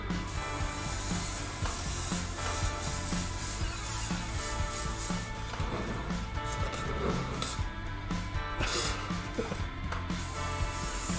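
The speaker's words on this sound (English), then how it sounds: "I'm just spraying stuff." An airbrush sprays paint onto a cowboy hat, giving a steady close hiss with faint scraping and clicking textures mixed in across the whole stretch.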